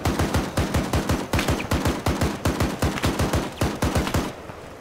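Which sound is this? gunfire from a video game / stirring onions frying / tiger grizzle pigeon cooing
gunfire from a video game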